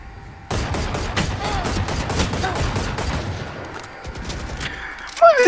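A rapid, loud fusillade of gunfire from a multiplayer shooter video game match, shots cracking densely for several seconds with a brief lull and a final burst, no one speaking over it.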